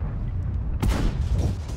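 A French Lorraine 40t tank in World of Tanks takes a hit from an enemy shell, a sharp heavy boom cutting into low engine rumble, with smaller impact crackles after it.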